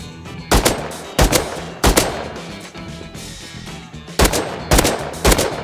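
Several bursts of rapid automatic gunfire in the video game Rust, loud and close, separated by short pauses, with echoing reverberation between the volleys.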